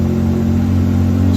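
1967 Austin Healey 3000 MkIII engine held steady around 3,000 RPM, a loud, close, even mechanical drone with a strong low tone and no talk.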